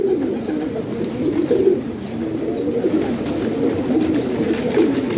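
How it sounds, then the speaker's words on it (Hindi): Pigeons coo in a steady, fairly close, overlapping murmur of soft, low, rolling calls, with one thin chirp partway through and no clear wingbeats. "ये आ गए हैं जी कबूतर"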